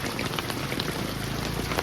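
The Venu river, swollen by overnight rain, rushes strongly in a steady, dense roar of flowing floodwater that holds constant throughout, with no voices.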